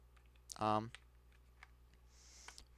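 A plastic keyboard battery cover is popped open with one sharp, close click, followed by a few faint small clicks and a soft scrape as the USB receiver is removed.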